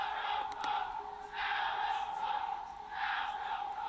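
Arena crowd at a UFC fight cheering for Sean O'Malley, swelling in waves of loud roars and chanting at a distance, rising and falling about every second and a half.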